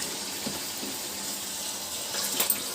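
Water runs steadily from a tap while hands are wetted before shaping Mysore bonda, a faint, even trickle with a slightly louder splashy burst near the end, alone without talk.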